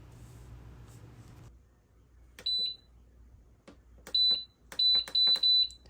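A timer on a pressure canner processing sliced yellow squash gives a few sharp, high electronic beeps, close and loud, in short bursts after a muffled stretch and soft clicks.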